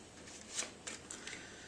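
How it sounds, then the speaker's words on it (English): A deck of playing cards is shuffled in a few quick riffling bursts, close and fairly soft, with no talking. "Give the deck a quick shuffle."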